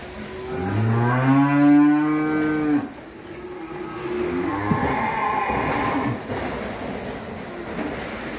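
Cattle at a Vietnamese breeding farm in Vinh Long, including a Fleckvieh-type cow with an 11-day-old calf, give two long, loud, close moos in succession over steady outdoor background noise.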